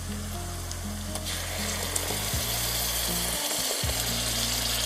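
Ground tomato paste hits hot oil in a pan with a loud, steady, close sizzle and hiss that carries on without a break, with no voices.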